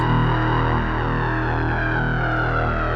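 A sustained, droning electric tone smeared by a Behringer 172 Phase Shifter/Delay/Gate delay without feedback, with layered repeats blending into a steady, dense wash at constant loudness.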